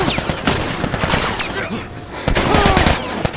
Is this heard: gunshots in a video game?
yes